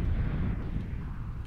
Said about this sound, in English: That's a lot of explosion.